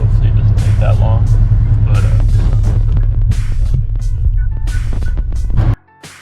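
Car driving on a road in LA, a strong low engine and road rumble steady throughout, with voices talking over it, cutting off abruptly near the end.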